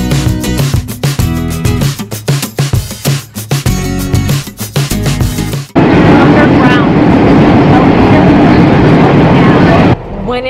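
An underground Boston subway train rides along with a loud, steady roar and rumble of wheels and motor, after a noisy stretch of music and voices.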